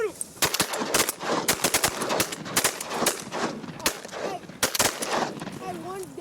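Shotgun blasts on an Oklahoma duck hunt, a rapid volley of loud, close shots fired by several hunters in quick succession, with excited shouting between the bursts.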